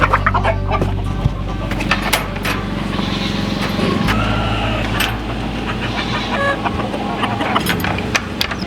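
Farmyard roosters cluck steadily with occasional crows, close and fairly loud, over a constant low hum of passing car and truck traffic in the background.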